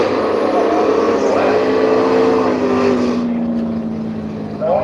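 A KE Corolla drag car launches on a drag strip at Willowbank, Australia, its engine roaring loud and close with rising pitch before fading quickly into the distance.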